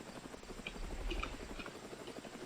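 Helicopter in the Roblox game Mad City, a low steady rotor drone with a faint chopping pulse, quiet and continuous throughout with no speech over it.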